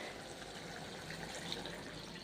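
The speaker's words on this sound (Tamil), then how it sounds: "இந்த அளவு தண்ணி ஊற்றுறேன்." Water is poured into a squid gravy cooking in a pan, giving a steady, soft, continuous splashing wash that runs throughout with no talk.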